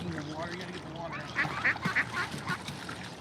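Ducks quacking in the background outdoors, several short nasal calls clustering in the second half, fairly faint beneath a murmur of voices.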